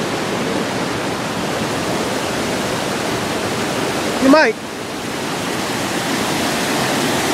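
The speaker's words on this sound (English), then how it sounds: "there's the shot of that waterfall I wanted" Waterfall at Glendale Shoals, a steady broadband rush of falling water that fills the whole stretch, with a brief voice speaking partway through.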